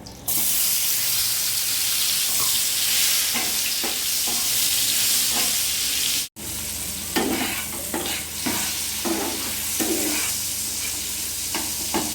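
Turmeric, Kashmiri chilli powder and chopped tomato frying for a vegetarian okra curry, giving a loud, continuous sizzle with repeated scraping stirs. A brief cut drops the sound near the middle before the frying resumes.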